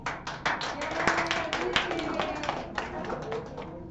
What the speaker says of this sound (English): Everyone is going to clap for you.